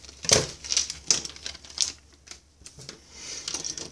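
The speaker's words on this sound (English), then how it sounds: "first I'm going to cut open this package to see what's inside" A package holding laser-cut plexiglass enclosure pieces being cut open, heard as a series of close, sharp snips and crinkling plastic taps in an irregular rhythm, with quiet pauses between.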